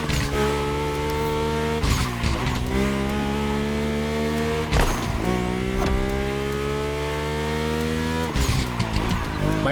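Mercedes-AMG One hypercar in The Crew Motorfest, engine revving high and shifting through gears with repeated rising sweeps and sharp shift breaks, loud and close throughout.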